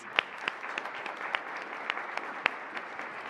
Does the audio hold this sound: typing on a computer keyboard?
no